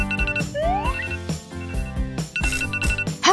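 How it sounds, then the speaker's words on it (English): A phone alarm rings in a bedroom with a bright, repeating electronic melody of chirpy tones and rising sweeps, steady and fairly loud throughout with no voices over it. "Okay, let's shut off this alarm."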